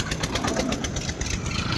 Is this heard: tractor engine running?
yes